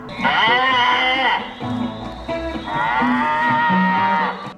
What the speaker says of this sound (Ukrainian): Корова щойно з пасовиська